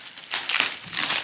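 Plastic packaging holding motor bolts being ripped open by hand, a quiet pause followed by two loud close bursts of crinkling and tearing.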